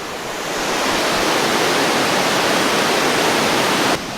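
Grizzly Falls, a large roadside waterfall in the Nahatlatch Valley of British Columbia, roars as a dense, steady broadband rush that swells slightly and then holds loud and close, with no voices.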